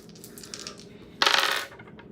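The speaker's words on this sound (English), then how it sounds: "I'm going to put some dice on this" Dice tossed onto a tarot reading spread give one short, bright rattling clatter lasting about half a second, following a stretch of faint, quiet handling sounds.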